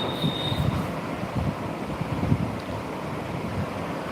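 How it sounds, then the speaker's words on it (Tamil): A continuous outdoor rush of wind with low buffeting gusts, fairly loud and steady, plus a faint brief high whine near the start. "வெளியே நல்லா காற்று அடிக்குது"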